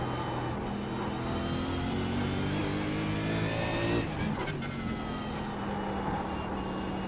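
Race car engine from the Supercars racing game, a loud sustained drone with steady harmonic pitch that shifts sharply around the midpoint, as on a gear change or lift, then settles again.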